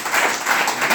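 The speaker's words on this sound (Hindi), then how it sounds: "ऐसे करते करते साहब के लिए जोरदार ताली बजाई।" Applause from an audience at a business bootcamp talk in Lonavala: steady, fairly loud clapping from a crowd, continuous through the short span without speech.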